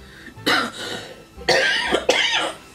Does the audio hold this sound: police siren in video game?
no